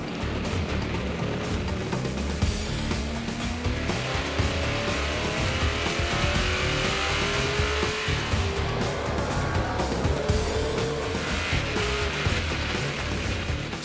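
Race cars roar off the line together at the green flag, a dense, steady engine drone with rising pitch sweeps as they accelerate, loud and continuous without pause.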